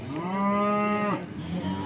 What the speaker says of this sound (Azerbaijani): Əziz qardaşlar, bu belə danalar satılır.